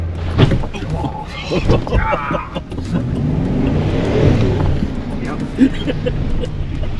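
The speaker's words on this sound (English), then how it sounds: "every once in a while you hear the back of the car hit a rock or bounce off the side of the road" Car four-wheeling off-road along a rough route with huge holes, engine rumbling close by with thumps and knocks as it bounces over rocks, mixed with voices talking throughout.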